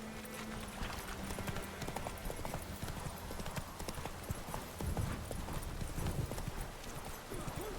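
The horse Roach gallops in The Witcher 3 with a fast, steady drum of hooves that stays loud and close throughout, blended with game ambience.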